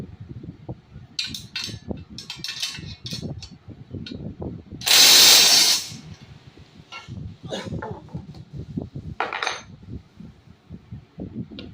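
Tire changer being tightened up for a tractor tire repair, producing repeated ratcheting clicks and mechanical clanks, with one loud harsh burst of noise midway.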